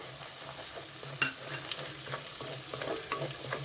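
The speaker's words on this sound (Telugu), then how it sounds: "ఇప్పుడు మనం నానబెట్టి పెట్టుకున్నాం కదా గ్రీన్ పీస్, అవి వేసేస్తున్నాం." Soaked green peas sizzling and frying in hot oil in a pan, a steady close crackle with occasional stirring scrapes, no voices.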